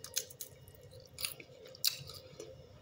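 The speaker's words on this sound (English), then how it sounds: "them bacon bits, they good and crunchy" Crunchy bacon bits being chewed in a salad, close to the mic, giving a few sharp crunching bites against a soft wet chewing background with no talking.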